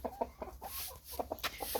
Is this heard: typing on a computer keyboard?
no